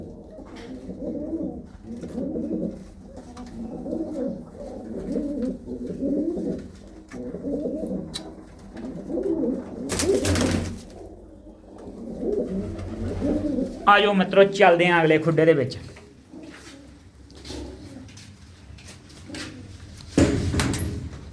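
Pigeons coo continuously in a loft, their low throaty calls rippling in steady repeated phrases while someone talks over them; a few sharp clattering noises, like a door or wire mesh, break in partway.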